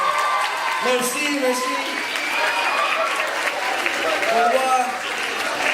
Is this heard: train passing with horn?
no